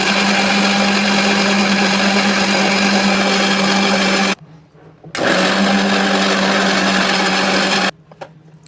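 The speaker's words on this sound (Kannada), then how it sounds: "ನೀರು ಹಾಕದೆ ಗ್ರೈಂಡ್ ಮಾಡ್ಕೊಂಡು ಬರ್ತೀನಿ" Mixer grinder blending orange juice with cardamom, rock sugar and salt, without added water: a loud, steady motor whine with a strong hum runs for about four seconds, stops briefly, then runs again for nearly three seconds before cutting off.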